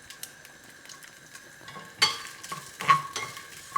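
Garlic and dried red chilies fry in a pan for vada pav, a soft crackling sizzle under irregular stirring scrapes and a couple of louder utensil knocks.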